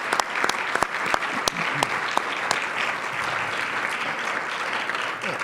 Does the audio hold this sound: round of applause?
yes